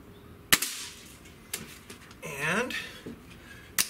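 Gamo Swarm Magnum .22 caliber multi-shot breakbarrel air rifle with IGT firing, sharp close cracks at spaced intervals with quieter handling noises between and a brief voice in the middle.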